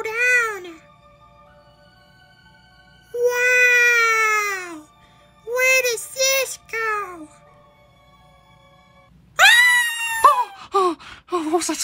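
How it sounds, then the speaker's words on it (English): High, wailing scream-like cries come in several separate bursts, loud and close, sliding up and down in pitch, from a Bendy Minecraft Christmas animation. "What was that scream?"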